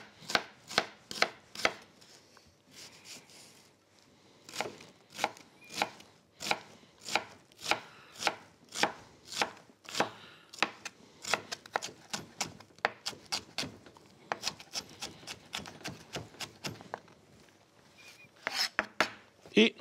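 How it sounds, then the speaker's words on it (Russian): A knife chops an onion on a cutting board, quick rhythmic strikes in irregular runs with brief pauses between, close by. "Я нарежу лук."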